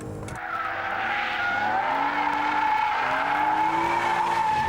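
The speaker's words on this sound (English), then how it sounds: "kick the tail out, and then just power slide it out of the corner" BMW M3 power sliding out of a corner on a track, tires squealing steadily over a loud, rising engine note, continuous and close throughout.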